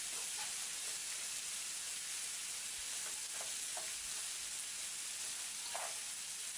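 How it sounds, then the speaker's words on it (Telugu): Sliced onions, peanuts, chana dal and urad dal frying in a pan for a Telugu brinjal fry, giving a steady close sizzle and hiss with faint stirring clicks, no voices. "సన్నగా కట్ చేసి ఉంచుకున్న ఉల్లిపాయలను, అలాగే పల్లీలు, పచ్చిశనగపప్పు, సాయి మినపప్పును కూడా వేసి వేయించుకోవాలి."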